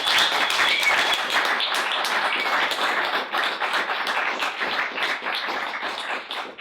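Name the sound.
applause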